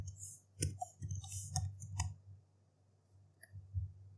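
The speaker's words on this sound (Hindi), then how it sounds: "तो सबसे पहले हम गूगल पर चार्ट पैटर्न्स टाइप करते हैं" Someone types a short search phrase on a computer keyboard: a handful of crisp, uneven key clicks over about two seconds, then a couple more after a pause, close and alone.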